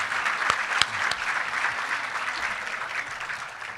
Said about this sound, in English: One more round of applause for these guys.